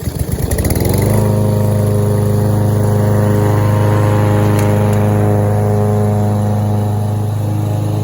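Craftsman M125 lawn mower cutting grass: the engine starts up and settles into a loud, steady, close droning hum that holds evenly throughout, with no talk.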